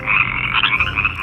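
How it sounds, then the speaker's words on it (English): A frog croaks continuously and loudly for a moment, a dense buzzing rasp heard close and alone, played as a toy animal sound on a children's farm-themed toy. "It's a frog."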